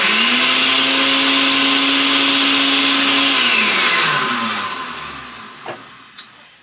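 A countertop blender whirs loudly blending a blueberry smoothie with honey, its steady motor drone dropping in pitch partway through and winding down, followed by a couple of faint clunks.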